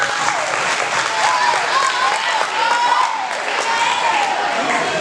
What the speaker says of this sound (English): So please give yourselves a round of applause for that.